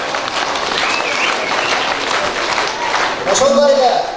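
An audience applauds at a singing event at Omosh Abdyldaev secondary school, a dense, steady clapping that holds throughout, with a voice briefly rising over it near the end.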